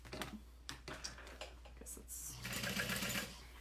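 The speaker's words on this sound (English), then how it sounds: "And then I'm gonna just sew really fast along the other edge." A sewing machine runs along the edge of a fabric saddle bag, a close, fast mechanical whir with ticking stitches and clicks, building to a denser sustained run toward the end beneath a faint steady hum.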